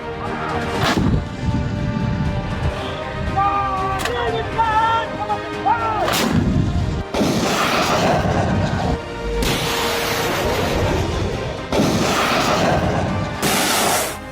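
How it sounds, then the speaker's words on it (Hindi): Artillery guns firing on the Mahajan field firing range in the Bikaner desert during an India-US military exercise, with several loud booming blasts and long rumbling echoes across the clip, partly layered with a voice. "ये युद्धाभ्यास बीकानेर के महाजन फायरिंग रेंज में चल रहा है, जहां दोनों देश अपने अपने हथियारों की ताकत को परख रहे हैं"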